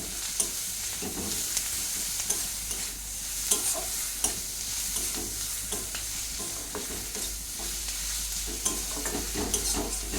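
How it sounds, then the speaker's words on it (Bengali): Ginger paste and turmeric masala fry in plenty of oil for a fish curry, sizzling steadily while a spoon stirs and scrapes the pan in irregular taps, close up with no voices. "তো দিয়ে এবার আমি মশলাটাকে ভালো করে কষিয়ে নেব।"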